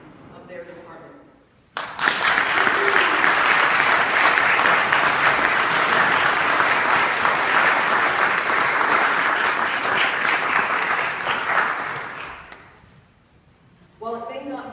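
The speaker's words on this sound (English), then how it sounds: "join me as I applaud the work of our chiefs and the men and women of their department." A sustained burst of loud audience applause for local fire and police departments erupts suddenly, holds dense and even for about ten seconds, then fades, with talk briefly heard before and after.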